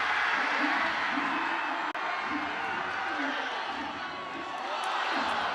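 A stadium crowd at a PLL lacrosse game between the Redwoods and Archers roars steadily after an overtime face-off win, a loud sustained wash of cheering with scattered whoops throughout.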